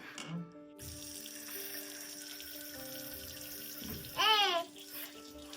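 A tap in a luxury cabin runs as a quiet, steady trickle of water, with brief faint background sounds over it.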